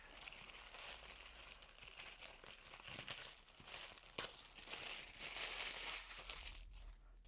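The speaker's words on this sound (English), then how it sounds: "I'm literally just going to rip this off" Golden Threads quilting paper being ripped off stitched fabric gives a quiet, continuous crinkling and tearing rustle with a few sharper snaps, close up and without speech.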